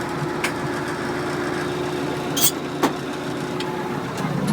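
A Massey Ferguson MF 590 tractor engine idles in a steady, close rumble while its PTO is engaged, with a couple of brief mechanical clunks partway through.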